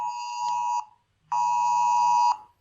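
A phone sounds its lockdown emergency alert: two long, loud, steady electronic tones with a short gap between them, harsh and buzzing, close by and with no talk over them.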